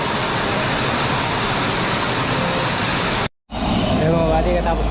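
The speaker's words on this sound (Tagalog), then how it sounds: "Biglang buhos." Heavy rain pours down in a dense, steady roar of broadband hiss, cut by a brief silence, then the downpour resumes with faint vehicle sounds underneath.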